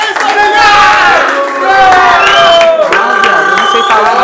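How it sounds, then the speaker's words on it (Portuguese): A crowd at a freestyle rap battle cheers and shouts loudly, with voices rising and falling over scattered clapping, close and energetic throughout. "Palmas aí pra vocês, família."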